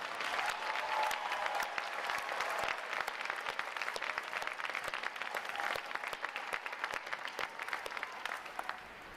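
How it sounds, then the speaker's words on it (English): A large crowd applauds Navy flag units, a drum corps and a color guard at a boot camp graduation ceremony, sustained even clapping from a distance that thins slightly toward the end. "Please join me in giving them a round of applause for their outstanding performance today."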